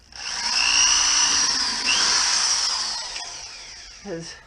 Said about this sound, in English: I want to drill a hole right here.